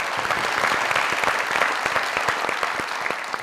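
Studio audience applause on a Pakistani comedy talk show, steady dense clapping with distinct individual claps cutting through, held at an even level throughout.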